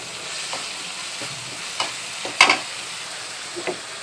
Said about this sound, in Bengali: এখন আগে থেকে সব মশলাগুলো কষিয়ে নিচ্ছি